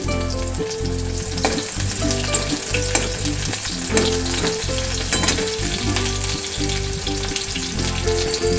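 Chopped onion frying in hot oil, producing a loud, dense, continuous sizzle close up, punctuated by repeated stirring knocks and scrapes from a spatula in the pan.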